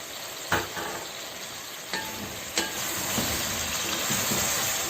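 Chicken cooks with spices in a pan, giving a dense, steady hissing sizzle close by, with a few distinct knocks and scrapes of a stirring utensil and nobody speaking.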